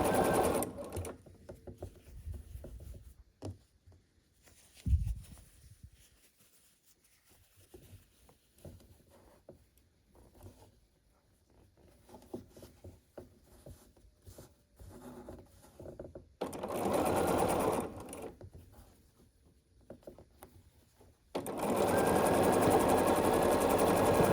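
A sewing machine stitches a pieced quilt block seam in several bursts, with quiet pauses and handling noises between them and a longer, loud continuous run of stitching at the end.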